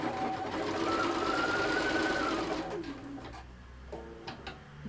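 A sewing machine runs steadily as it stitches fabric for a yin yang purse, with a continuous mechanical whirr for the first half before it stops, leaving soft handling noises.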